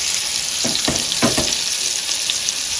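Boi fish coated in onion flour, masala, rava, salt and lemon fries in a pan with a loud, steady sizzle and a few brief bubbling bursts, close up and without speech.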